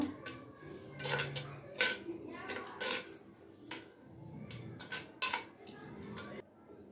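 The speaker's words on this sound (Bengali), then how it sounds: "মিশ্রণটা হাঁড়ির মধ্যে ভালো করে গুলিয়ে নেব।" A yogurt and spice mixture is stirred in a cooking pot, with repeated close clinks and scrapes of a utensil against the metal in an irregular rhythm, and faint voices in the background.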